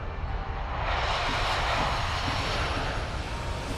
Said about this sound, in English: that thing sound like a little fighter jet coming in